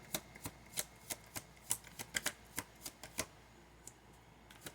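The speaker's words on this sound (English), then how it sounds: "while I'm trying to shuffle these cards" Crisp tarot cards riffle and snap as they are shuffled in an irregular run of about fifteen sharp clicks, close to the microphone, with no voices.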